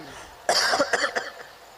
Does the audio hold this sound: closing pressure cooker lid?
no